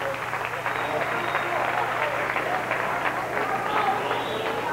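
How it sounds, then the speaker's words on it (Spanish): Audience applause for a band member at a live performance by an Andean group, a steady dense wash of clapping that holds evenly through the whole stretch with crowd noise mixed in. "Un aplauso a él."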